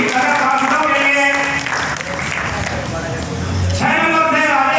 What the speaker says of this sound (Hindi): जोरदार तालियां बजाएं सभी पार्षदों के लिए।